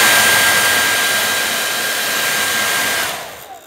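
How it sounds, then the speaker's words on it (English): A loud, steady hair dryer blows on a laptop keyboard with a constant rushing whoosh for about three seconds, then quickly winds down and cuts off. "to aid the drying process, you might resort to a hairdryer"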